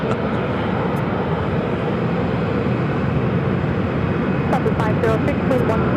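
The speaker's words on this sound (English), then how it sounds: "Delta Airlines Flight 2419 heading. Actually, that flight was coming in from Seattle, 737-800 heading to Terminal 3." A Delta Airlines Boeing 737-800 taxiing at Phoenix airport gives a continuous, fairly loud jet engine rumble and whine, with brief clicks and faint tones late on.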